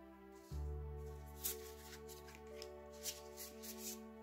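Matte-finished tarot cards from Chris-Anne's Tarot of Curious Creatures deck are handled and sorted, giving soft rustles and a few sharper flicks close by over a steady low background hum.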